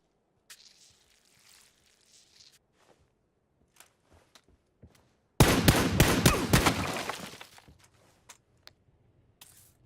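Video game gunfire erupts midway as a dense, loud burst of rapid shots that fades out over a couple of seconds, preceded and followed by faint scattered footsteps and small noises.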